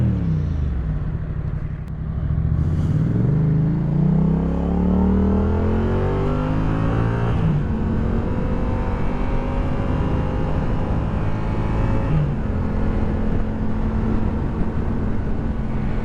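A 2016 Yamaha FZ-07 motorcycle is ridden and accelerated. Its engine note rises clearly through the revs, drops at a shift, then settles into a steady cruising hum under wind rush.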